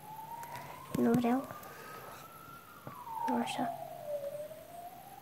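Police siren in the Minecraft video game wailing in a slow rising and falling sweep at moderate volume, with someone speaking over it in short bursts.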